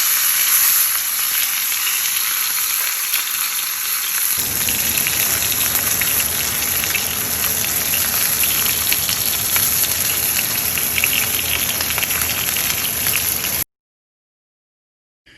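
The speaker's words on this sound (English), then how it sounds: "now we're gonna sear the final side for 2 minutes" A porterhouse steak searing in a very hot pan gives a loud, steady sizzle and crackle that keeps going for several seconds before it cuts off abruptly.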